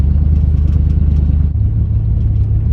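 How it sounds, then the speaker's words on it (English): A 1979 Chrysler 300 engine idles with a steady low rumble while a persistent loose rattle clatters through it, constant and fairly loud throughout. "It's really annoying rattle sound."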